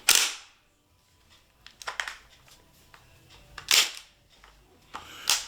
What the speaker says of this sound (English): I dispatched them with this, the umarex MP40 Legends machine gun.